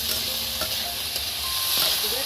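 Potatoes fry in a pan with a steady, soft hiss of sizzling oil, faint and continuous over a couple of seconds.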